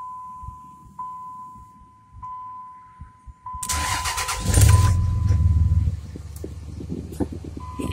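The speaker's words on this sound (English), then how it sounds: "Oh, we're going to start the old diesel up here." Old diesel engine of a Ram pickup truck cranking and catching after a steady electronic tone, then settling into a loud, rough idle close by.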